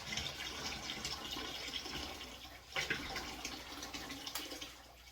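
Water rushes steadily through an aquarium siphon cleaning tool during a tank water change, a continuous gurgling flow with a brief splashy surge midway, fairly faint and without talk.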